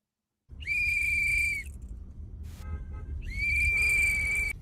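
Whistles blown by community patrollers and observers on a Minneapolis street, two long shrill steady blasts separated by a short gap, loud and close over a low outdoor rumble.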